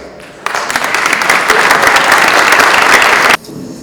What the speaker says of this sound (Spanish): Recibimos con un fuerte aplauso al señor Sebastián Miklicek Soto.